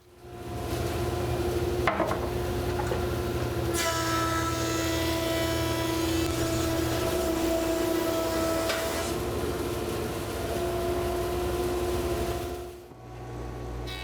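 Thickness planer planing wooden boards for a mid century modern nightstand, a loud, steady high-pitched whine and roar of cutting that holds for about ten seconds before spinning down.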